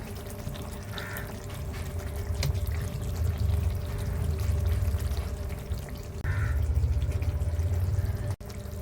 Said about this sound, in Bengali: এবার নামানোর আগে একটু কাঁচা সরষের তেল দিয়ে দেবো